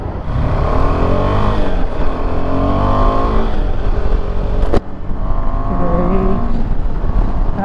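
A KTM 390 Adventure motorcycle engine revs loudly up close, its pitch climbing and falling through repeated throttle blips, with a brief sharp click midway before the revving resumes.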